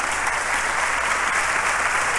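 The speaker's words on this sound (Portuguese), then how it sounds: "aplaudam ao Senhor" A church congregation applauds steadily at a thanksgiving service, a dense, even wash of clapping that lasts throughout without pause or spoken words.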